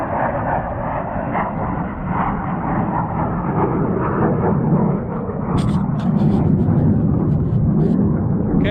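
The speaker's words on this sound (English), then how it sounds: "F-16 going into the bombing range at Kanopolis." An F-16 fighter jet roars over a bombing range near Kanopolis, Kansas, a heavy, steady engine rumble that swells louder toward the end, with faint crackles and wind buffeting, and no voices.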